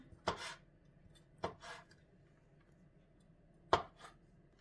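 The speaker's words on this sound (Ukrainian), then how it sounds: "Отак беремо, ріжемо наші грибочки" A knife chopping homemade pickled mushrooms on a board: three sharp, close cuts spaced unevenly, each with a brief scraping tail, over a quiet background.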